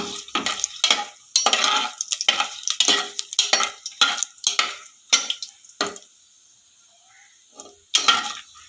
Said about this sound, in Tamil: நல்லா கிண்டி விட்டுக்கிடுவோம்